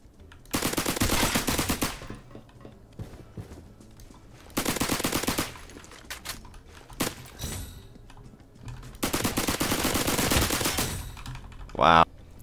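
A suppressed tommy gun fires in the Roblox game Criminality. There are three separate bursts of rapid automatic fire, spaced apart by quieter gaps with some faint background activity.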